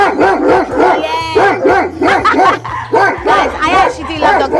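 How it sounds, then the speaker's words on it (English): A dog at a seaside retreat barks repeatedly and loudly nearby in quick, excited bursts with yips and whines, while someone talks and tries to calm it. "I actually do love dogs. But he's making too much noise."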